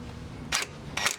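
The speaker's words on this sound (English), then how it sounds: "I'm going to use the electric impact to tighten it down" An electric impact wrench tightens a nut on a camber kit bolt of an Acura RSX Type S, firing two short, sharp rattling bursts close by.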